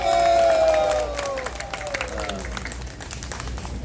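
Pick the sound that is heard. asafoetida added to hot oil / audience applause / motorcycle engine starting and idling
audience applause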